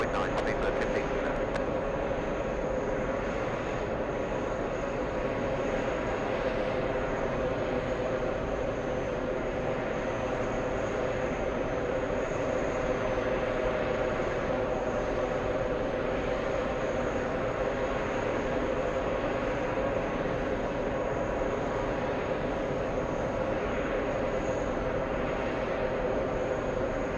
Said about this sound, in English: we're going to stay with the Lufthansa A340 for a few more seconds.